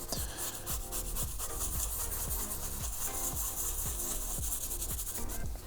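A cloth or brush rubs a leather car seat with cleaner in light, easy strokes, making a steady, rhythmic scrubbing sound that repeats roughly twice per second, close up and with no talk.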